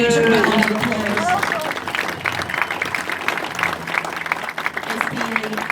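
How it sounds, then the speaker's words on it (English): Applause from an audience at a Belle Vue Aces speedway press conference, a dense, steady burst of clapping that fills the clip, with a voice talking over it at the start. "give this man a huge round of applause"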